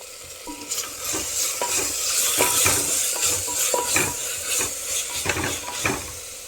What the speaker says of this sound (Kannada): ಇದಕ್ಕೀಗ ನಾನು 1 ಸ್ಪೂನಷ್ಟು ಶುಂಠಿ ಬೆಳ್ಳುಳ್ಳಿ ಪೇಸ್ಟ್ ಹಾಕ್ತಾ ಇದ್ದೇನೆ. ಇದು ಹಸಿ ವಾಸನೆ ಹೋಗುವವರೆಗೆ ಫ್ರೈ ಮಾಡ್ಕೊಳ್ಬೇಕು.